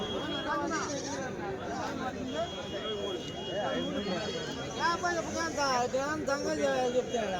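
Goats at a weekly Tuesday livestock market in Kadiri bleat repeatedly, wavering calls overlapping near and farther off, under constant crowd chatter and people talking close by.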